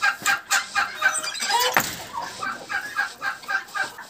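A brooding turkey hen being carried to a new nest makes soft, repeated clucking and low grumbling calls, close by and steady, with no talk in the clip.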